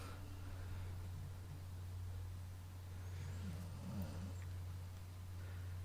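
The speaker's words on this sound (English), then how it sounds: "I was mostly impressed by the Batmobile driving away there" A cartoon Batmobile's engine drones steadily as it drives away, a constant rumbling roar with broad whooshing noise that stays fairly even throughout.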